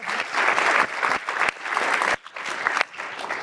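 An audience applauds at a presentation on neurodivergent employees, a fairly loud burst of dense clapping that briefly dips and resumes before tapering slightly.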